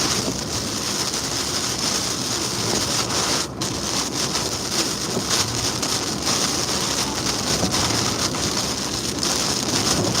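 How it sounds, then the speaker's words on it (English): Heavy rain and gusting wind from Hurricane Beryl in East Texas roar steadily and loudly, a dense continuous wash of pelting water and wind buffeting the microphone, with no voices. "Rain's coming down more."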